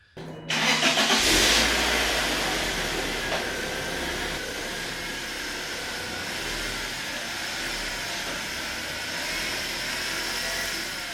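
A BMW E36 Compact engine starts inside a garage and settles into a steady idle, a brief loud catch followed by a continuous even hum with no talking.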